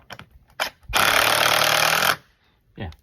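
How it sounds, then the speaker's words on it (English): A power drill drives into a wet dock board with one loud, steady burst of about a second, framed by splashing, clunks and short vocal sounds before and after. "keep your drill dry and keep the board level at the same time"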